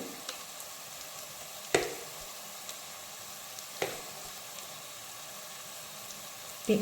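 Chili powder sautéing in hot oil in a pan for a Kerala river-fish curry, a steady close sizzle throughout with a few sharp clinks of a spoon stirring against the pan, no talk.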